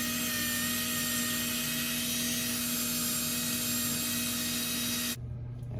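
Steel wool and a Scotch-Brite pad scrub corrosion off a coated valve, a steady, close abrasive rubbing with a constant hum underneath that cuts off abruptly near the end.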